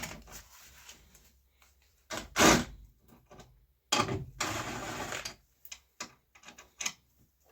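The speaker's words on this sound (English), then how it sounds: "So I'm gonna loosen those two bolts." Bolts on the top of a front shock on a 1987–2000 Toyota Camry are loosened with a tool: short, close bursts of ratcheting clicks separated by quiet pauses.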